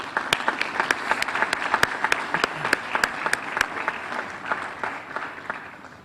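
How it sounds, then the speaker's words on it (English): Audience at the opening ceremony of a Cape Verde exhibition applauding, a sustained roomful of clapping with sharp individual claps standing out near the front, steady for about six seconds. "If you could give them a round of applause."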